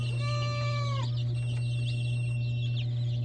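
Day-old chicks peep and chickens cluck softly up close over a constant low electrical hum, with one rising then falling call at the start followed by scattered brief clucks.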